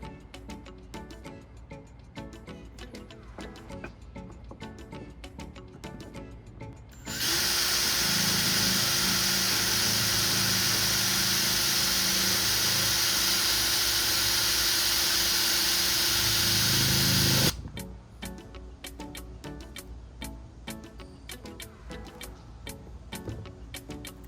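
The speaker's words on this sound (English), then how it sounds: "Take my drill, and I have a 1/4 inch drill bit." Between ticking sounds, a power drill with a 1/4 inch bit drills a hole for a kayak rod holder extension, running about ten seconds in one loud, steady whir, then stopping abruptly.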